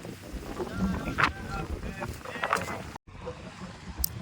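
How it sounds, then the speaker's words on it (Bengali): Wind sweeping across an open village field, heard as low, gusty buffeting and rumble against the microphone, with faint voice-like sounds mixed in and a brief dropout near the three-second mark. "হেভি সুন্দর হাওয়া মাঠে"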